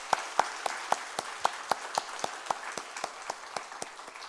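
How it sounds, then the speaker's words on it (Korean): Church congregation at a Friday worship service clapping in a loud, steady rhythm of sharp, evenly spaced claps, about four per second, heard alone. "우리 고등부에서 뜨거운 박수로 감사하십시오."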